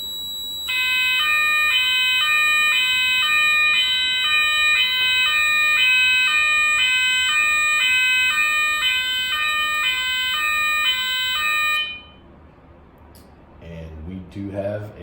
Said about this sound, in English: we do have a fully functioning Federal Signal horn and strobe that energized whenever alarm 1 relay was energized